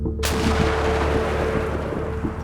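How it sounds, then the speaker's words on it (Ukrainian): A single sudden, loud artillery blast from a gun firing in Donetsk region, Ukraine, followed by a long rumbling echo that slowly fades. "Постріл!"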